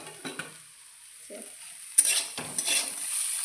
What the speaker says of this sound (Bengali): খুব সুন্দর ভাজা হচ্ছে